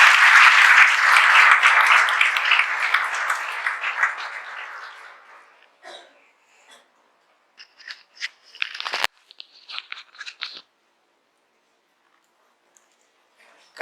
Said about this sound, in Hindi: तो एक बार फिर से जोरदार तालियां